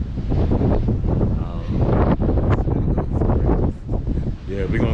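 Loud gusting sea wind blasts across the deck of the Carnival Vista cruise ship, rumbling and flapping against the microphone in uneven surges for several seconds, with no clear speech over it.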